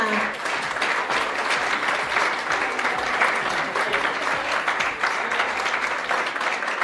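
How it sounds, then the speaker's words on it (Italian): Audience at a Miss Riviera del Brenta beauty pageant selection applauds steadily, a dense, even patter of clapping hands sustained for several seconds. "Facciamo un applauso ad Elena."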